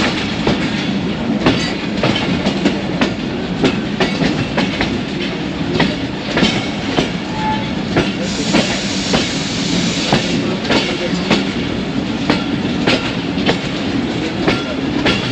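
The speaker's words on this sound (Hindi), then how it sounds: "यहाँ की लूप लाइन पे ले लिया हमें और 2 डाउन खैबर मेल यहाँ मेन लाइन से" The Khyber Mail passes on the main line at Eminabad station on a thick foggy morning, a loud, steady clickety-clack of wheels over rail joints rolling on without a break and with no voices.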